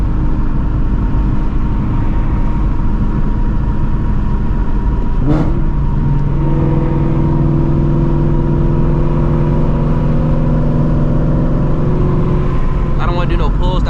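Shelby GT350 engine on a late-night city drive, a steady loud engine drone with road noise, a brief sharp transient midway as the car shifts into sixth gear, then a settled, lower humming tone.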